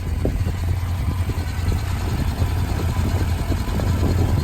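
A Dodge Challenger Scat Pack Shaker with its Hemi V8 and 8-speed transmission idles in a steady, low, even rumble, close by and with no voices over it.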